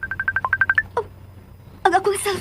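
A mobile phone rings with an incoming call, a quick run of bright, evenly spaced electronic beeps that stops after about a second. A voice speaks shortly afterward.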